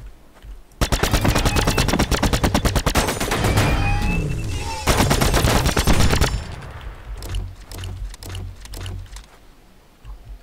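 Pistol fire in the sci-fi game The Signal from Tölva: two long, rapid bursts of close, loud shots, followed by scattered, quieter single shots and a fading tail, with no speech.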